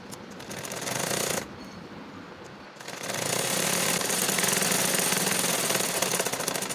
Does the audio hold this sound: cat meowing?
no